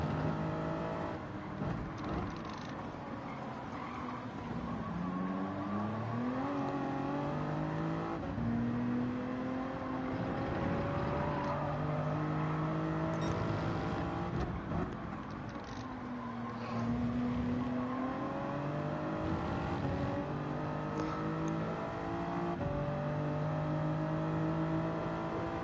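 Toyota Supra race car in Gran Turismo 7 on the Interlagos circuit in Brazil, its engine climbing and dropping through gear changes in a steady loud drone, with repeated rising pitch sweeps and no voices.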